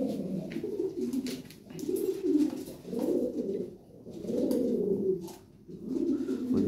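A pair of pigeons kept for sale coo close by, in repeated soft throaty phrases about a second apart, with brief gaps of quiet between them and a few faint clicks.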